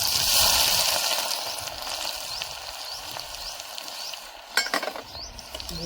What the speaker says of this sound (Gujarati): હવે આપણે નાખી દઈશું આખું જીરું પછી આપણે નાખી દઈશું આદુ મરચાં લસણની ઝીણી પેસ્ટ બનાવેલી છે